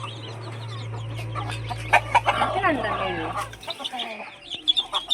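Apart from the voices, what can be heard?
chickens clucking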